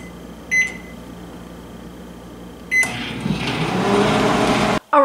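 A microwave oven set to full power hums steadily while cooking brown rice, with two short beeps of the keypad at the start and an abrupt cut near the end.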